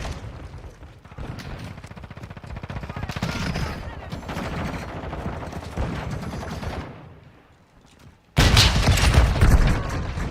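Heavy gunfire and explosions fill a Call of Duty Modern Warfare II hardpoint match, with bursts of automatic fire and booms rolling continuously, a brief lull, then a loud blast, and game voices calling out under the combat.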